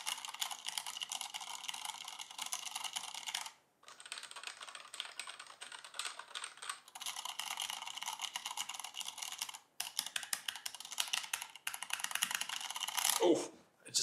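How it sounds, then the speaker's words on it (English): Steady, close typing on a mechanical keyboard with brown switches, rapid dense clacking in long runs broken by brief pauses, ending with a few heavier keystrokes. "this is how a true mechanical keyboard sounds"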